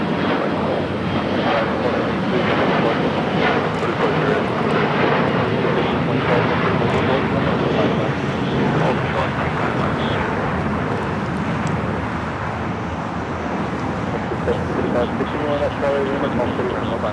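An airliner's engines roar steadily as it taxis at LAX airport, a loud, continuous broadband drone that holds for the whole stretch with no pauses.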